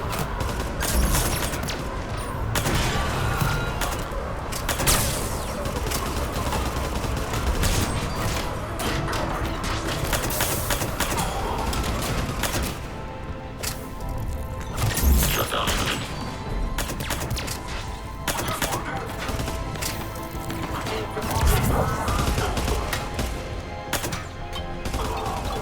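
Pistol gunfire from a Mass Effect 3 Legendary Edition firefight crackles in repeated sharp bursts and thwacks over a dense, busy bed of game combat noise, with several loud peaks scattered throughout.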